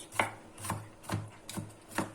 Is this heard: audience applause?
no